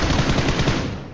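Rapid automatic gunfire from a battle royale video game, a loud, dense burst of shots rattling continuously for about a second with no speech over it.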